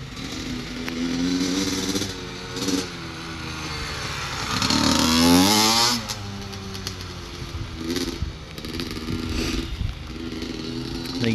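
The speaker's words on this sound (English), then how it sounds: "He wanted to know what a two-stroke felt like." A two-stroke 85cc dirt bike engine runs steadily with a loud, buzzy drone that climbs in a rev surge near the middle, then settles back to a rough idle-like burble.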